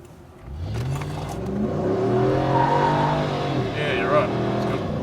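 A V8 Nissan Navara engine climbs in pitch under full throttle, a loud rising roar that holds strong near the end, with people talking over it.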